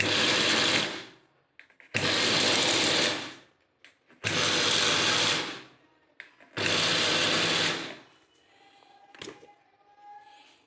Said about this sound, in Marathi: त्याला झाकून परत एकदा आपण ग्राइंड करून घेऊ